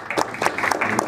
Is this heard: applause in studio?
yes